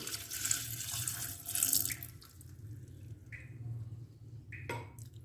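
Water splashes and pours into a cooking pot of spiced meat with a gurgling rush, then settles into quieter drips and a few soft metallic clinks.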